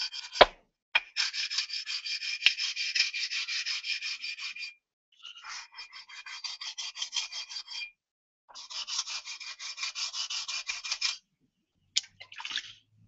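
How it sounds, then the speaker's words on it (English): A flattened sharpening stone has its edges rounded off with quick rhythmic scraping strokes, coming in three long bursts separated by brief pauses, close and fairly quiet. "We round off the edges."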